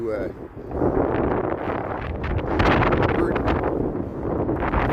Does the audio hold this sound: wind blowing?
yes